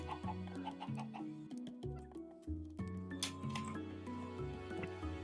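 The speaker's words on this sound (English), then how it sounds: "Counted. Chickens." Chickens cluck in the survival video game AltOrigins, several short clucks and chirps over busy layered game music and sound effects, with no talking.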